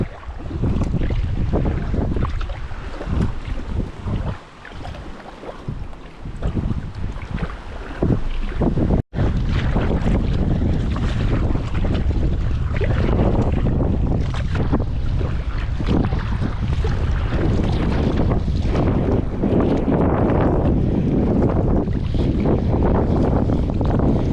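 Strong wind on a river trip toward Kaunas buffets the microphone aboard a small boat, a loud continuous roar with gusty surges and a brief dropout, over faint water wash and no talk.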